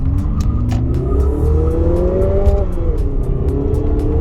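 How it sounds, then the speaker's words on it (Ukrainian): A 2019 Lexus NX 300 F-Sport SUV engine revs up steadily as it accelerates hard uphill from zero to 100 km/h, pitch climbing, with a brief shift dip before rising again; loud and close, no talking. "Зараз ми, до речі, зробимо заїзд від 0 до сотні, спробуємо, як вона буде їхати."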